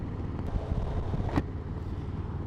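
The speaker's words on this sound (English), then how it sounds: "I can definitely hear the wind hitting my helmet" Steady wind buffeting a motorcycle helmet at highway speed with the visor down on a Harley Low Rider ST, a constant broadband rush with low rumble and no talking.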